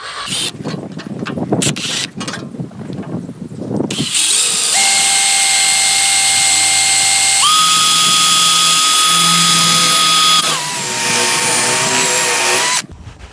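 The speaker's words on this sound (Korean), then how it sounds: "그냥 일반 피스로는 그냥 안 들어가고 한번 뚫어줘야 돼요." A power drill bores a hole for screws while an electric vehicle charger is being installed. A few rough scrapes come first, then a sustained close, loud whine that steps up in pitch once and drops later.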